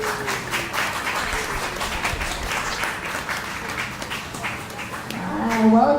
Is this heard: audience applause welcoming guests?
yes